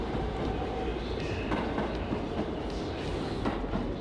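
Subway train rumbling and clattering loudly at an underground station platform on a hot, humid day, a steady continuous roar of wheels and cars close by for the whole stretch.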